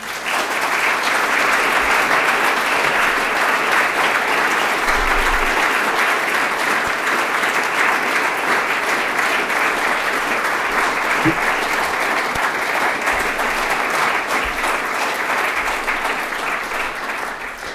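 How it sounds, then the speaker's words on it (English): Sustained audience applause at a remembrance event fills the whole stretch, a dense, even wash of many hands clapping at steady loudness with no pauses. "And Thomas, some of that applause is for you."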